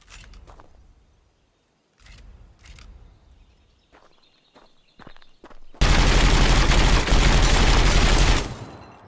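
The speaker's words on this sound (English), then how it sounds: "Yes, you can shoot your car." Sustained burst of rapid automatic gunfire in Gunsmith Simulator, loud and dense for about three seconds near the end, fired at a car, preceded by scattered clicks and mechanical handling sounds.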